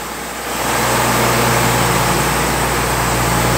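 A Cummins engine on a 2004 Atlas Copco ECM590 drill rig runs at a steady idle, a close, even, low rumble with a constant hum that swells just after the start and then holds without change.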